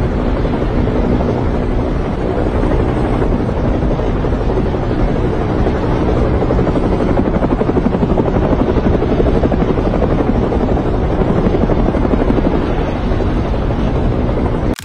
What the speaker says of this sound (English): You can hear the sound of a helicopter